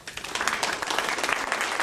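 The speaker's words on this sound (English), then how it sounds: "Give yourselves a round of applause for being here today." Audience applause at a handwriting-analysis talk on dating and love, a short burst of many hands clapping at steady, moderately loud volume with no speech over it.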